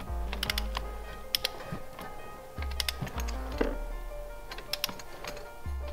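A torque wrench tightens spark plugs on a BMW M43 engine, giving repeated sharp ratcheting clicks and mechanical clacks in irregular bursts, close and fairly quiet, with no talk.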